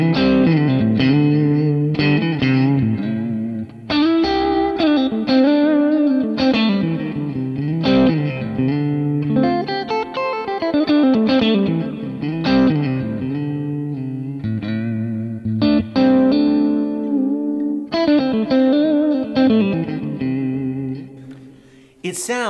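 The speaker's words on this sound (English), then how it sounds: "I'm playing this profile right here. It's the 64 Vibroverb Clean" An electric guitar played through a Kemper 64 Vibroverb Clean profile rings out in loud, sustained clean notes and chords with reverb, phrases following one another almost continuously before a brief gap near the end.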